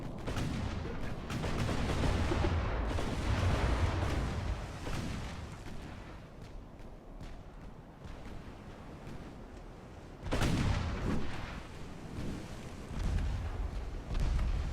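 Naval artillery from warships in Ultimate Admiral: Dreadnoughts booms in heavy, rumbling salvos with shell impacts, a long loud barrage fading midway, then a fresh powerful burst of gunfire and explosions near the end.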